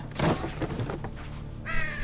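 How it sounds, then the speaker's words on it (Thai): A crow caws in the video game Unravel, a couple of harsh rasping calls near the start followed by a brief tonal game sound at the end, clear and close with no talk. "อีกาบ้า"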